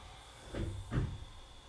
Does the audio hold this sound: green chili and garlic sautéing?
no